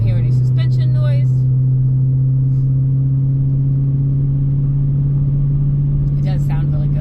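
A 2019 Dodge Challenger's engine drones steadily while the car cruises, a loud, even low hum that holds without revving, with someone talking over it at the start and again near the end.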